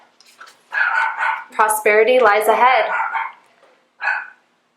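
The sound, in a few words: dogs barking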